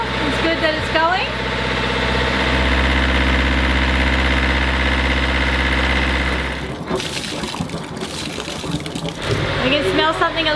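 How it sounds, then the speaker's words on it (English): A sailboat's inboard engine idles with a steady, loud, close hum for about seven seconds, then keeps running under people talking nearby. "So they've got the engine running at the moment. As you can hear, it's good that it's going."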